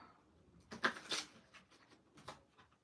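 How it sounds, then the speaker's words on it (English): A deck of playing cards is shuffled during a card reading, giving a few quick, soft riffling bursts close up in a quiet room with no talk. "Shuffle."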